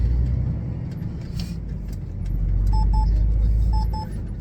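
On a narrow country road, another car squeezes past in a broad rumble that swells and fades over the driver's own steady engine drone, and a few short beeps chirp near the end.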